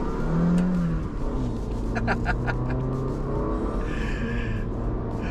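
Honda City Hatchback RS with a six-speed transmission revving and accelerating on a toll road, a steady mid-pitched engine drone building under faint cabin noise.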